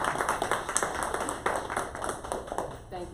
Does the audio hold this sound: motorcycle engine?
no